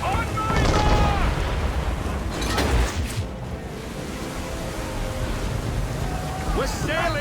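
Ship cannons fire a broadside in Assassin's Creed III: heavy booming blasts roll out over a continuous churn of sea and wind, with crew voices shouting throughout.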